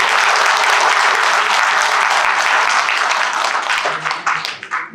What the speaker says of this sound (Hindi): सर के लिए जोरदार तालियां बजा दीजिए।